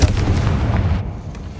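The Confringo blast spell in Hogwarts Legacy explodes with a loud, heavy boom that rumbles briefly and then fades.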